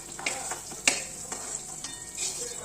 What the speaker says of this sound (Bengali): এবার আমি পটলগুলোকে একটু ভেজে নেব।